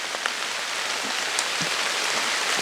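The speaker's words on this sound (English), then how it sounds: "it's starting to rain pretty good here." Rain falls steadily on leaves and ground in Georgia woods, a continuous soft hiss with scattered louder drops, close and even, with no talk.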